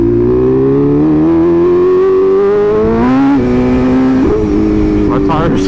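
A BMW M1000RR motorcycle engine drones loudly on a dirt road, rising and falling in pitch as the throttle changes. It dominates the foreground with heavy wind rumble underneath, and a voice is mixed in.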